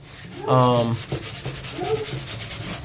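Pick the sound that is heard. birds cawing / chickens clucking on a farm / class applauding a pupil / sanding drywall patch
sanding drywall patch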